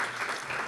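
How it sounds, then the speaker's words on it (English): A symposium audience applauds, a dense, steady wash of clapping heard alone for under a second. "let's clap loud enough so that they know that we value them"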